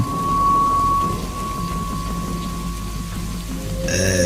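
Heavy rain pours steadily while deep thunder rumbles throughout, loud and close, with no voices.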